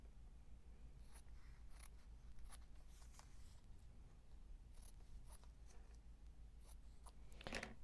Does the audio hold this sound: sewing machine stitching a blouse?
no